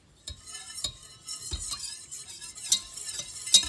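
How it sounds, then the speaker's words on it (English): Whisk clinking and scraping against a pan while milk is worked into a sauce, with several sharp metallic taps and a soft stirring swish between them, close and fairly quiet. "I'm going to switch over to the whisk now."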